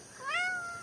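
A single short cat meow on a Philippine farm, close and clear, rising and then trailing off within a second, with no talking over it.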